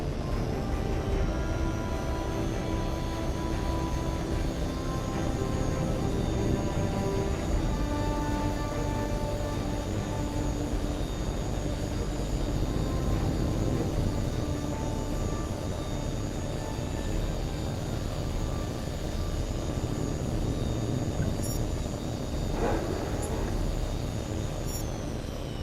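Jet fighter engines roar steadily through a carrier takeoff in the video game Tom Clancy's HAWX 2 on PlayStation 3, a loud, sustained broadband rumble with a faint rising whine and a brief sharp transient near the end, with no talk.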